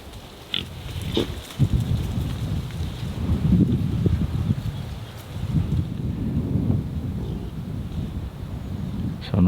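Pigs grunt in the background on a farm outdoors, with low, irregular grunts at moderate distance under steady wind buffeting the microphone.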